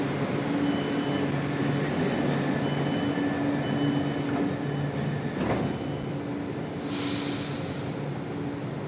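A Chennai metro train runs with a steady rumble and rail hum, a squealing tone rising near the end, heard from inside the carriage.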